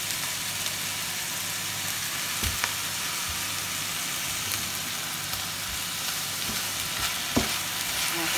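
Grated tomatoes frying with onions in a pan, a steady dense sizzle with occasional scrapes and knocks of stirring, close and continuous with no talking.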